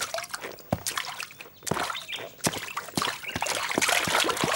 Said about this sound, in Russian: Можно ходить по лужам.